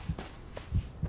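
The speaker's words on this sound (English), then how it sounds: "I hear a heartbeat." A heartbeat sound effect in the Blair Witch horror game throbs as low, muffled paired thumps, close and steady, repeating roughly every half second.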